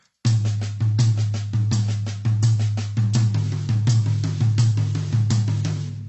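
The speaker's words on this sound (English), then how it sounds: "the inverted double sounds like this" A drum is struck in a quick, even inverted double-stroke sticking pattern, repeating steadily with crisp attacks and a resonant low ring, no voices.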